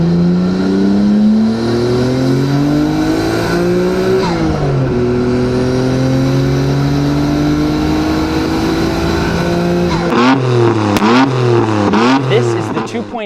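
A Nissan GT-R's 2.6-liter RB26DETT twin-turbo inline-six revs loudly, its pitch climbing and dropping through steady rises, then breaking into sharp, choppy blips near the end, with no voices over it.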